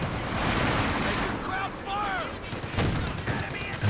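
Anti-tank gunfire in a Company of Heroes 2 match against a Panzer IV, heard as loud repeated shots and booms layered with game battle noise and whistling effects, with a commentator's voice running underneath.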